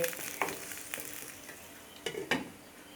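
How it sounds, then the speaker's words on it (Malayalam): Coconut milk is poured into a curry of ridge gourd cooking in a pan, giving a soft sizzle and bubbling with a few light stirring scrapes and clinks across a few seconds. "ഇത് നമ്മൾക്ക് ഒഴിച്ചു കൊടുക്കാം"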